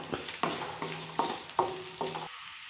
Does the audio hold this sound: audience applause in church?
no